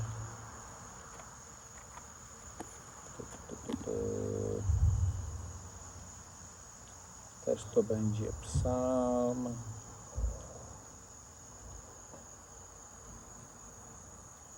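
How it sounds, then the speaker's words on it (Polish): A continuous high, thin chirring of cicadas fills a quiet night background while someone speaks softly at moments over it. "późny wieczór słyszycie cykady, prawdopodobnie, no i komary"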